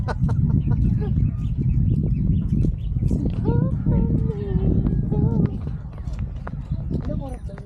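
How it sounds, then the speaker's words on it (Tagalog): Horse hooves clop along a dirt path at Masasa, a steady run of hoofbeats mixed into constant nearby chatter from people walking. "Ganda yung may kabayo."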